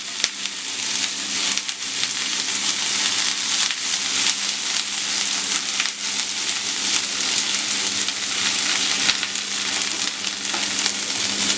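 Mushrooms cooking in a pan give a steady, dense sizzle and crackle that runs unbroken and fairly close, with no voices over it.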